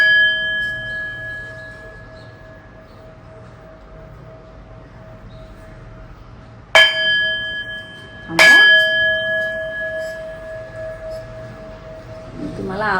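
A meditation singing bowl rings with a steady sustained hum, then is struck twice, each strike giving a bright clang followed by a long shimmering ring.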